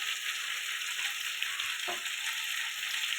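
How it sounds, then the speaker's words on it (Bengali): Bhetki fish curry with potato and taro is being sautéed in a pan with turmeric and chilli powder, giving a continuous soft sizzle with a light stirring scrape partway through. "ভালো করে এটা কষাতে থাকবো"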